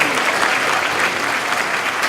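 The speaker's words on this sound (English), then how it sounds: "Let's give them a round of applause." Audience applause at a graduation ceremony, a dense, steady wash of many hands clapping at moderate loudness throughout, with no voices standing out.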